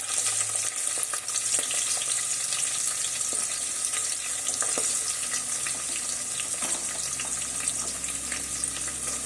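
Chopped onions frying for egg biryani, a steady loud sizzle filling the whole stretch, with faint clicks and scrapes of stirring in the pan and no talking.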